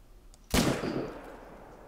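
A single sharp rifle shot rings out during a moose hunt at about fifty metres, sudden and loud against quiet outdoor ambience, its report decaying over roughly a second.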